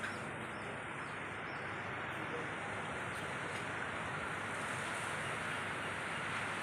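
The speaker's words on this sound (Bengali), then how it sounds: "সমুদ্রের গর্জন শোনা যাচ্ছে।" Steady roar of ocean surf beside a beachfront resort in Mauritius, a continuous broadband wash with no distinct breaks, moderately loud and constant throughout, with a faint breeze on the microphone.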